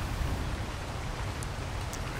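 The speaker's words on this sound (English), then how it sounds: "Alright, it's raining." Steady rain falls in the survival video game Ark, a dense even hiss with no breaks and no voices over it.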